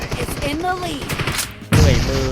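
An M16 rifle fires in the PUBG Mobile game, with dense rapid shots that jump sharply louder near the end, while a voice talks over the first part.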